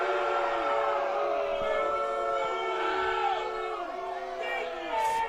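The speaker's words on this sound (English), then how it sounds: "Crowd not happy with that." An ultimate frisbee crowd at a professional game, Arizona Sidewinders hosting Bay Area Falcons, reacts unhappily to a call, a loud continuous mass of voices with shouts and whoops rising and falling throughout.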